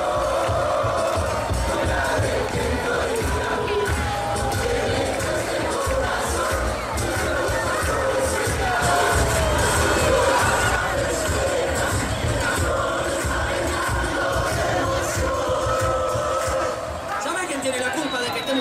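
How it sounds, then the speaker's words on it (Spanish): Loud crowd noise at a night festival at a motor racing circuit, a sustained roar of cheering and shouting voices from a large gathering that runs unbroken before tapering near the end. "¡Un aplauso para el asador!"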